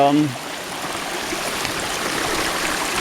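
A creek runs steadily, a broad close rushing of flowing water that fills the whole stretch after a brief voice fades at the start.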